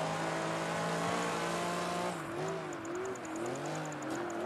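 A TVR Cerbera Speed 12 races among other cars in a racing video game, with a loud, continuous engine howl. Partway through, the pitch drops and wavers as gears shift, and a quick string of clicks rises over it. No one talks.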